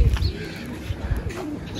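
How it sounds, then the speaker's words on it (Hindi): A pigeon perched nearby coos in a few soft, low, rolling calls at close range, the throaty notes rising and falling over light background noise. "एक कबूतर आके बैठा हुआ है"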